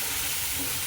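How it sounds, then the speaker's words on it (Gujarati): Tomatoes fry in hot oil for Gujarati mamra khichdi, giving a loud, steady, close sizzle that lasts the whole moment without any talking. "ટમેટાને પણ થોડીક વાર માટે આપણે અંદર તેલમાં ચડવા દઈશું"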